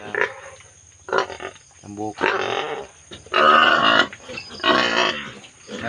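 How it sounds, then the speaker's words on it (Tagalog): Small piglets grunting on a farm growing chayote and corn, the short snorts and grunts mixed in with a person talking throughout. "maliliit na baboy. Biik na maliliit na biik."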